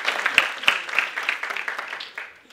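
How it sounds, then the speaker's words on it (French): Audience applause fills a school hall at an inter-high-school pleading contest in Martinique: a brief, moderately loud burst of dense clapping with a few sharper claps, tapering off toward the end. "Applaudissez-vous bien."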